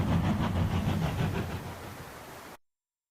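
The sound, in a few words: train riding sound from World of Final Fantasy video game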